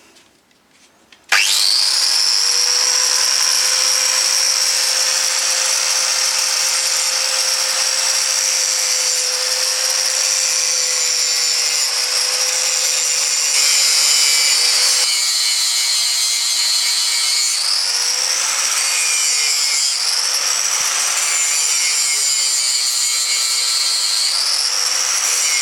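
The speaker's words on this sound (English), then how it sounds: "I've got to grind those two pins out" An angle grinder cutting into motorcycle chain pins, starting abruptly and screaming loud and steady for over twenty seconds close up, its pitch dipping slightly as the disc loads against the metal.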